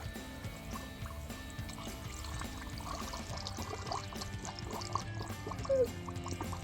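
Antifreeze coolant poured slowly and steadily into a Jeep Wrangler JK radiator: a quiet, continuous trickle with gurgles and small drips, heard close up at low level.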